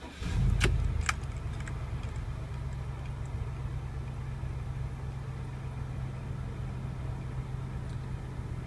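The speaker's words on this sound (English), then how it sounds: "Let's just give it a little start" A 2002 GM RV engine cranks and catches in a loud burst, then settles into a steady low idle hum; a few brief clicks sound near the start.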